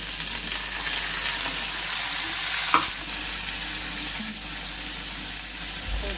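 Capsicum sizzles in a small amount of hot oil while pickle (achar) is being made, a soft, steady frying hiss with one brief clatter of a utensil midway.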